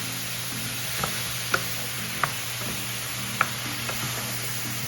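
Tomatoes and aromatics sautéing in a pan for butter chicken give a steady sizzle, broken by a few sharp clinks and scrapes of a utensil stirring against the pan.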